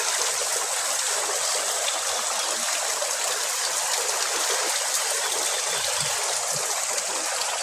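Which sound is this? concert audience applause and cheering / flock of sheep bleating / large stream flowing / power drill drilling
large stream flowing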